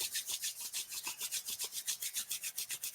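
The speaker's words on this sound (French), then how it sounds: "on frotte les mains l'une contre l'autre." Hands rub briskly together in a quick, even back-and-forth rhythm, a soft close-up swishing friction repeated about fourteen times with no talk.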